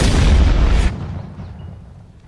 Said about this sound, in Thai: กดปุ่ม F ยิง